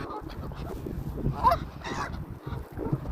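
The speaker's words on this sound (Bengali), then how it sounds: "আমার পিছনে কি পরিমাণ হাঁস" Ducks gathered in large numbers near the speaker outdoors, giving scattered honking, quacking calls over a steady outdoor background, moderately close but fairly quiet, with one call standing out in the middle.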